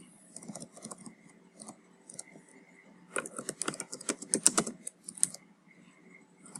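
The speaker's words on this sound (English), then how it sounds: "I'll just type University" Typing on a computer keyboard, a run of quick close clicks that speeds into a dense burst midway before easing off, with no talk over it.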